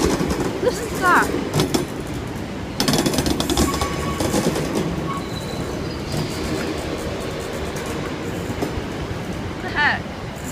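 A six-coach train runs through Glasgow Central station with rumbling wheels, clanking and squealing rail noise, and people talk over it.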